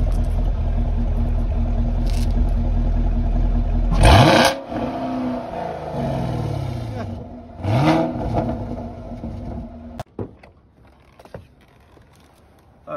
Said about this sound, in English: let me hear the back, the exhaust.